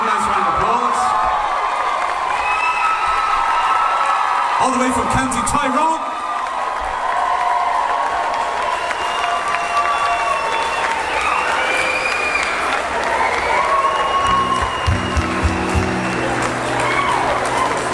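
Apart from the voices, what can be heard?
concert crowd applause and cheering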